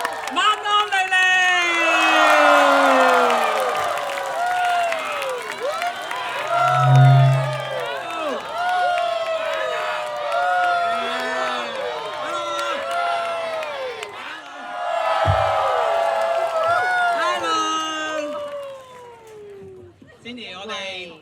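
A concert audience claps, cheers and whoops for the performer, a loud sustained crowd with bursts of shouting that swell again midway, while people talk through it.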